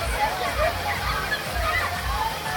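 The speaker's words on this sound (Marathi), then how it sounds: "ते पाणी येत आहे ना." Water pours down at a resort water park, making a continuous sloshing rush with splashy gurgles at moderate volume. Voices can be heard over it.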